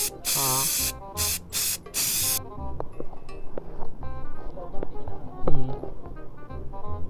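High-temperature spray paint hisses from an aerosol can onto the magneto of a Yamaha Aerox 155 motorcycle in several close, loud bursts, followed by light metallic clinks and handling noises.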